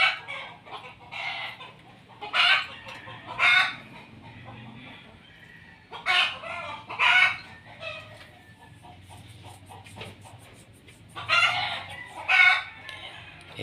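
Chickens in a backyard coop cluck close by in repeated loud bursts, with several sharp squawking calls spaced a few seconds apart over quieter background clucking and low hum.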